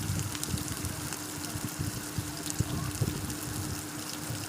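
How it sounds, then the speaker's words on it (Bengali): Onions frying in oil in a kadai while cooking dal, giving a steady, fairly faint crackling sizzle with soft bubbling, close by and continuous with no talking. "পেঁয়াজটা দিয়ে তখন ভাজা ভাজা করি"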